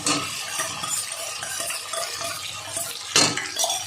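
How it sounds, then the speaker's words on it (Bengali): Fried potatoes stirred into a shrimp masala curry in a pan, with close, continuous scraping and clattering of a spoon against the pot and a sharper knock near the end. "এবার আমি এর মধ্যে ভেজে রাখা আলুগুলো দিয়ে দেবো।"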